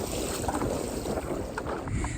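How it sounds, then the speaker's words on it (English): Steady pedal kayak crossing a lake against wind, with continuous water wash and wind rush buffeting the microphone throughout, faint rhythmic drive sounds beneath, no talking. "I'm working too hard pedaling to talk."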